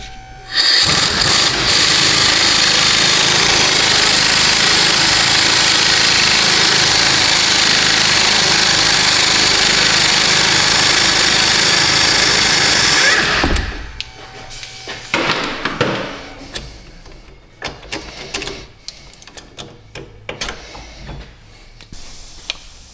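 A power tool runs while bolts are removed during a wheel bearing replacement on a Dodge Avenger, giving a loud, continuous whirring buzz for about thirteen seconds that cuts off abruptly, followed by quieter clinks and handling noises.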